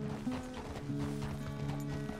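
Horse hooves clip-clopping at a run in Red Dead Redemption 2, a steady muffled patter under a tonal in-game score.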